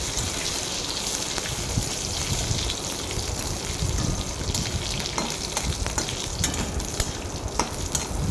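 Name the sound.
whole cashews frying and being stirred in a pan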